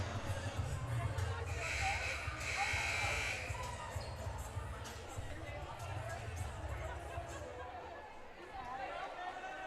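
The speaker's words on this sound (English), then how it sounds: "That buzzer was having like a seizure." A malfunctioning buzzer in a gym at a high school volleyball match sounds in long, droning, stuttering blasts over crowd chatter and ball bounces, then falls away.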